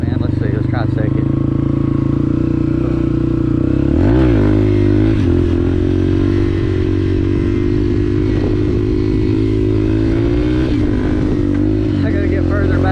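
Dirt bike engine revving hard while riding in second gear, a loud continuous buzzing roar that rises and falls with throttle changes, close to the rider.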